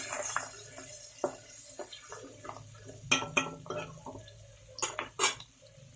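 A metal spoon stirs singi and shol fish frying in oil in a pan, with sharp clanks and scrapes against the pan coming in irregular bursts over a faint background sizzle.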